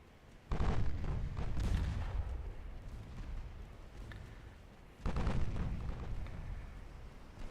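Naval gunfire strikes a destroyer in the warship game Ultimate Admiral Dreadnoughts, heard as two heavy booming impacts a few seconds apart, each followed by a long rumbling decay, with no voices.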